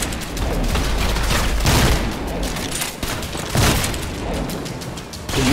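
A shotgun fires in the game Trepang2, loud blasts booming in a dense fusillade amid steady combat noise, the heavy reports layered over a roaring background for several seconds.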